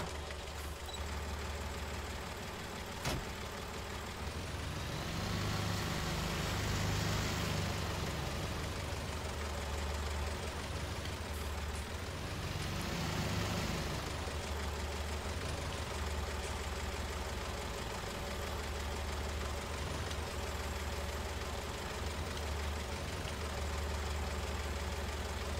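A tractor engine idles steadily in Farming Simulator 19, a low, even mechanical drone that runs throughout without talk and swells slightly twice.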